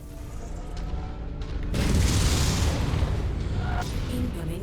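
A missile explosion in the MechWarrior 5 video game, a deep rumbling boom that swells and lingers over steady game background noise.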